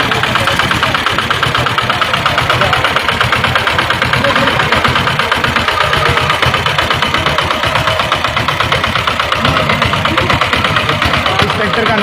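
A low-cost agricultural tractor engine runs at a university tech expo, throbbing loudly and steadily with a rapid, even pulse throughout.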